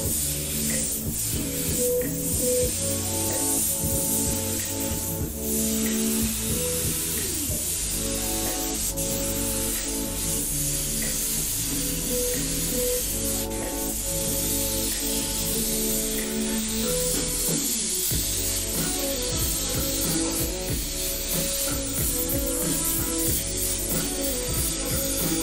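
An airbrush sprays paint onto Pelon fabric while drawing graffiti styles, giving a continuous airy hiss under steady background music, with no talk.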